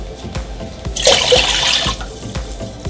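Water, about two glasses, is poured into a cooking pot on a stove, making a short rushing splash of about a second amid quieter kitchen background sounds.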